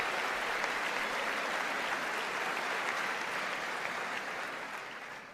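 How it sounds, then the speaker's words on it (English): State of the Union chamber audience applauds in a sustained, even wash of clapping that stays steady and then gradually fades near the end. "it seems like they're only applauding this guy"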